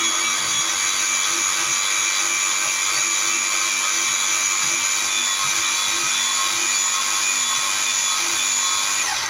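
A food processor blitzes a lentil burger mixture with a steady, loud, high-pitched motor whir that runs unbroken from start to finish, with no voices over it.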